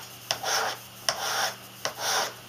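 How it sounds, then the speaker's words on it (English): A file rasps across a knife blade while a bevel is shaped, three slow even strokes each starting with a sharp scrape and trailing off, close and moderately quiet, with no voices. "I definitely want the bevels on both sides of the blade here to be symmetrical"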